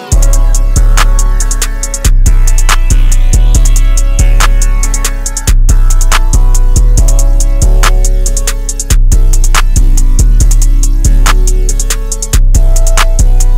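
Trap beat plays loud and close: booming sustained 808 bass, rapid hi-hats and snapping claps and snares repeating in a steady looped pattern, with no voices.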